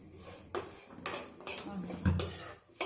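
Vermicelli being lightly roasted in a pan for gasagase payasa, stirred with a metal utensil that scrapes and clinks against the pan in several distinct strokes, close and moderately loud with no talk.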